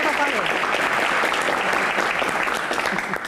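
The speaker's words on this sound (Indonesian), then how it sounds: "Tepuk tangan" An audience applauds loudly and continuously, many hands clapping in a thick, even roar that stays strong from start to finish before easing slightly at the close.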